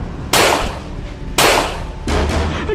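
Three sharp, loud broadband blasts, at uneven intervals, each trailing off into a brief decay over a low background rumble; a gunshot-like sound with no speech.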